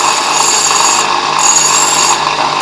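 Steady abrasive rubbing as swarf is cleaned off a grinding stone used for hollow grinding plane blades, a continuous close scraping hiss with no pauses.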